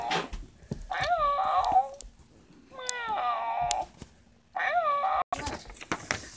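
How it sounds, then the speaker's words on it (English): An electronic toy cat, the Zoomer Meowzies, gives three loud synthetic meows separated by short pauses, with faint background noise and no talking. "I think the cat was stuck on meow. It's stuck on meow mode."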